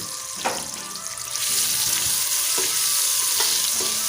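Onions frying in hot oil in a pressure cooker, the sizzle jumping to a loud, dense, steady hiss after the first second or so, with a few sharp clinks of a utensil stirring, close and with no talking.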